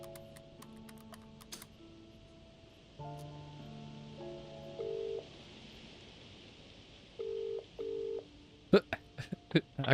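A telephone is dialed in the video game Contradiction, a run of short electronic key tones in uneven bursts, followed by clicks and a few sharp knocks, set against quiet rain-like ambience.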